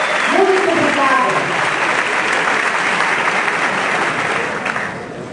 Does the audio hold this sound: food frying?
no